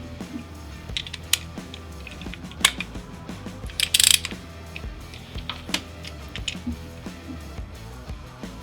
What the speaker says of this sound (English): We can go ahead and grab our torque wrench, set it at 32 foot-pounds.